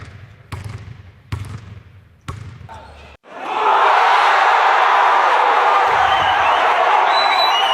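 A basketball bounces several times, each bounce a sharp thump. The bouncing gives way to a loud, sustained crowd roar of cheering and shouting.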